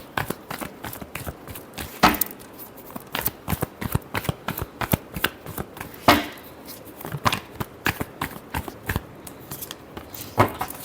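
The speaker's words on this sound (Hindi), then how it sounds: "Last shuffle." Tarot cards shuffled by hand for a love reading, with loud close riffles and sharp slaps repeating in an uneven rhythm for several seconds, heard alone without voices.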